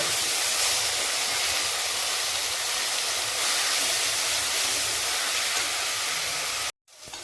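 Spices and yogurt sauté in a hot pan for a vegetable pea pulao, giving a loud, steady, broad hiss that runs unbroken before cutting off abruptly near the end.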